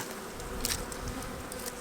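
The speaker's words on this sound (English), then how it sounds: "we're just going to smoke these bees out of the way" Honey bees swarm and buzz at an open hive during a pollen flow and pollen patty feeding, a steady close drone with darting individual wings rising and falling throughout, no voices.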